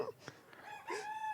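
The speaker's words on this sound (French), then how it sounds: "Ah, voilà, on entend les poules" Chickens at a farmhouse in the village of Cosswiller, with a brief crow-like rooster call and short clucks against a quiet outdoor background, faint and at a moderate distance.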